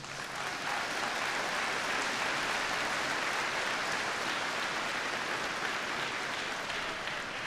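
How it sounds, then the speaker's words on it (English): A large graduation audience applauds continuously, a dense, even wash of clapping that carries from start to finish without pause. "give our parents, teachers, and coaches a round of applause too"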